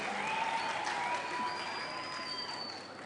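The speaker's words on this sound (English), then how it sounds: "let's give Mr. Gill a round of applause for the technical work that he has done" Brief burst of audience clapping at a Grantley Adams Secondary school event in honour of Mr. Gill's technical work, moderately loud, steady, then tapering slightly toward the end.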